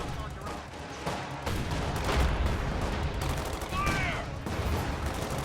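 Anti-tank gun fire in a real-time strategy game match, a dense run of sharp reports and crackling blasts over continuous battle noise, with a commentator's voice running underneath.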